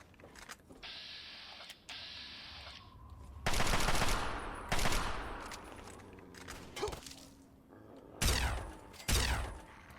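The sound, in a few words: plasma rifle gunfire in video game Fallout 3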